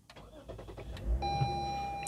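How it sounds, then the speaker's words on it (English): A 2021 Lexus IS 300 AWD starts up. A brief crank and catch is followed by a steady, quiet idle with a thin electronic whine over it, heard close from inside the cabin. "I'll show you guys by turning on the car"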